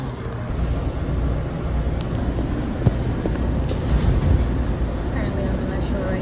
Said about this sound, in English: Currently on the metro right now.